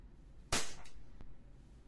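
A WE 1911a airsoft pistol fires a single .20 BB with one sharp close crack, followed by faint mechanical clicks in an otherwise quiet room.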